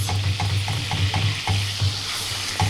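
Butter sizzling and foaming in a pan while stale bread sündürme is cooked, a loud steady crackling fry close up with a regular rhythm of scraping stirs and no voices.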